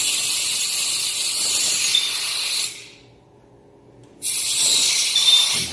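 Pneumatic cylinder on a homemade clay extrusion machine, regulated to about 30 PSI, giving a loud steady air hiss that stops for over a second, then bursts back in just as strongly.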